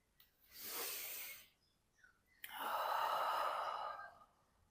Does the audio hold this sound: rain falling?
no